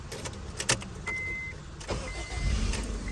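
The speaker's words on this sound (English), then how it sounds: "Now I just got to start the car." A Honda Civic with a newly replaced starter cranks and catches, starting with faint clicks and a brief whine before a low engine rumble builds; heard fairly quietly from close by.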